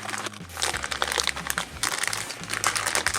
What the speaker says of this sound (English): pop that sucker in our plastic bag